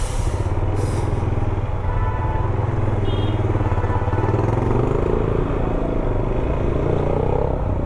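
A motorcycle labours up a steep mountain road on a bike tour, its engine a loud, steady, low rumbling drone, close and continuous, with no talking.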